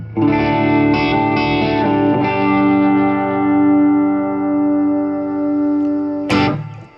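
An Epiphone Les Paul Standard electric guitar pushed by a boost pedal into a low-set amp, sustained distorted bluesy notes ringing long and loud, then a sharp new attack near the end that cuts off quickly.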